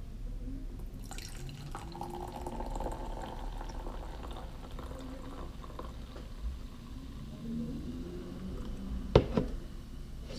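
Mountain Dew Spiked raspberry lemonade poured into a glass, a steady low fizzing trickle over several seconds with a brief clink near the end, quiet and close, no speech.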